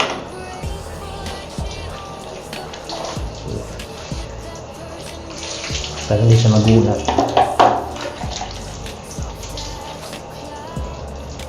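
Water from a handheld shower sprays during a cat's bath, running as a splashing stream that swells loudly midway, while a person talks over it.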